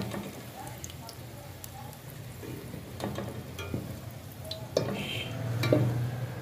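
Koftas frying in hot oil in a home kitchen, a steady moderate sizzle with occasional clinks of a utensil against the pan, and someone speaking over it.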